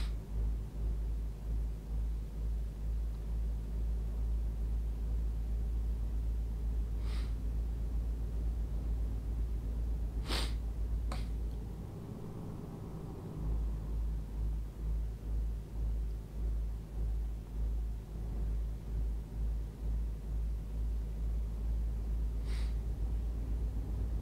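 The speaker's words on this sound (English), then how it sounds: "as you can hear the truck now accelerating quite hard" A truck in Euro Truck Simulator 2 accelerates hard, a deep, steady low engine rumble that pulses throughout, briefly dipping near the middle, with a few sharp clicks scattered above it and no speech.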